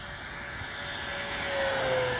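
A Dynam B26 RC model bomber with a 1500mm wingspan flies on its maiden flight, its electric motor giving a steady, high whine that slowly swells louder over about two seconds, with no voices.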